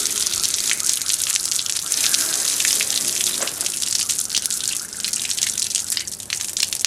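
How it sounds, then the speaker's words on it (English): A garden hose runs water over a surface to knock debris off, giving a steady close spray and splash with continuous hiss and no talk. "I'm just going to take a hose, just kind of run it over it, just to knock it all off there."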